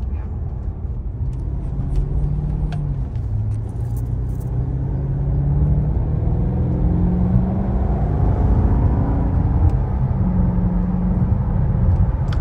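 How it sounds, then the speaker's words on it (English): A 2010 Maserati Quattroporte with a Ferrari-built V8 gives a steady, deep exhaust drone while driving, a low rumble that swells and shifts pitch slightly as the engine rises through light acceleration, continuous for the whole stretch. "It's got a nice tone to the exhaust."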